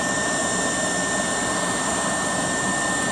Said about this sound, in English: That's just a hole in the ground with a blow dryer shoved to it.